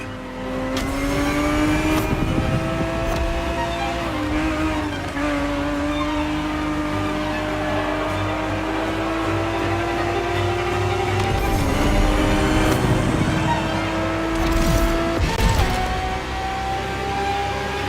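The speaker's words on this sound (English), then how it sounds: "The Ferrari 365 GTB4 is the perfect vehicle for you to experience Ferrari racing as it felt back in the 70s" A 1970s Ferrari 365 GTB4 racing in a video game, its engine droning loudly and steadily with rising and falling revs through gear changes, alone with no talk, continuous for the whole stretch.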